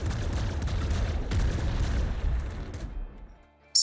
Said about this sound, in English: Sawed-off shotgun.